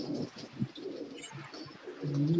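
Red Surkha pigeons coo softly in a loft in Karachi, with low, repeated throaty coos rising and falling over faint background noise, fairly close and without talk.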